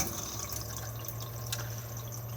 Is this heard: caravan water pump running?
yes